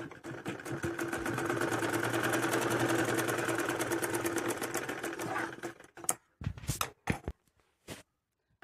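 A sewing machine stitches a sleeve piece in a long, fast, even run up close, then breaks off into a few short bursts and clicks.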